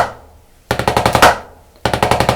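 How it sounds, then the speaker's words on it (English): A rapid snare drum roll in two bursts, its strokes uneven in spacing and loudness because one hand lifts higher, sharp and close with a brief gap between. "you might get something like this, where that roll sounds uneven because the left hand's coming up higher"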